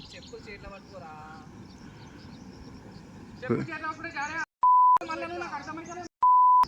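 Two loud, flat censor beeps cut in one after the other, each cleanly replacing the voices, with chatter and music playing between them.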